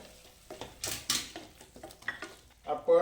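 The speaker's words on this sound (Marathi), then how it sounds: "बारीक कापून घेतलेले जे बटाटे ते घालून घेऊ आणि हे परत परतून घेऊ थोडं।" Finely chopped potatoes sautéed in a pan for a Radhanagari doodh amti dish, heard as short scraping stirs and soft sizzles, with a brief bit of speech near the end.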